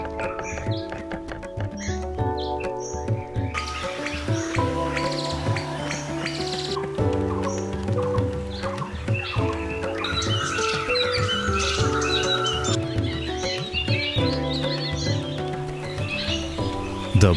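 Dense chorus of forest birds in a valley habitat, many overlapping chirps, tweets and calls layered continuously at moderate loudness, with no talking.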